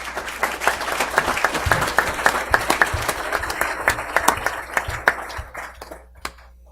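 Audience at a city council meeting applauds, a dense burst of many hands clapping that holds steady for several seconds, then thins to scattered claps and fades out.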